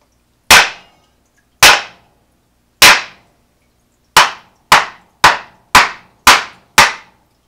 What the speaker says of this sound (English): So let's go to the floor and go ahead and give this a couple of whacks.